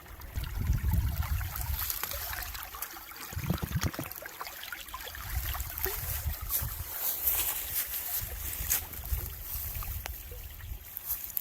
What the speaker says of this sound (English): I'm about to fill up my water bottle for the 5th time today.